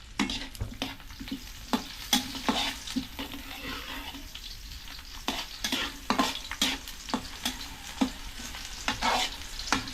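Garlic and ginger sautéing in a pan, a steady close sizzle broken by frequent sharp clicks and scrapes of a utensil stirring, continuing throughout without speech.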